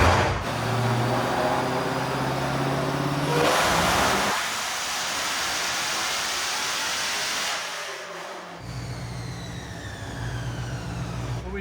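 A manual Dodge Demon engine revs hard on a dyno run, a loud sustained roar climbing through the gears with pitch sweeps, a short lift partway through and then rising again, with no talk.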